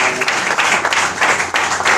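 A church congregation claps loudly and continuously during a sermon, a thick, close wash of many hands with surging bursts, with no speech over it.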